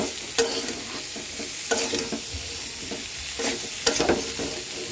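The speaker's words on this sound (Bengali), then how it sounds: "এবার সব কিছু সুন্দর করে ভাজবো।" Spices and vegetables, potato and cauliflower with ginger paste, fry in hot oil in a pan, a constant close sizzle broken by periodic scraping stirs, with no voices.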